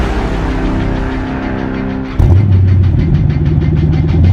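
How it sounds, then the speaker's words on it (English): A muscle car's engine revs hard on a test drive: a steady idle hum jumps into a loud, sustained revving roar heard up close. "So we're gonna maybe take it out for a test drive and see how it works."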